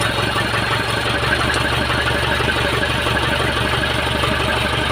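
An Isuzu 4HL1 diesel engine runs steadily after a hard start, a loud, continuous low rumble with a rough idle pulse holding throughout, close and without a break.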